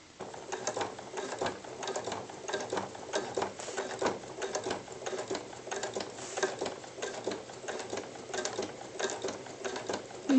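Sewing machine stitching a Snappap notebook cover, a fast steady mechanical clatter of the needle running continuously, close and fairly quiet with no talking.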